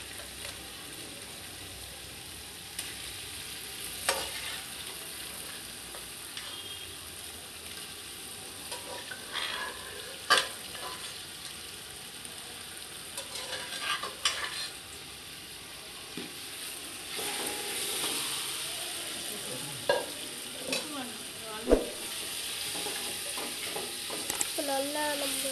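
Precooked mutton stirred and fried in a pan for biryani, a steady sizzle under scattered scrapes and clanks of the spoon, getting busier toward the end.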